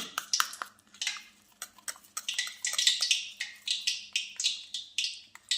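Flour being mixed in a bowl for methi mathri, heard as a steady run of quick, close scraping and tapping strokes against the bowl in a regular rhythm, with no talk.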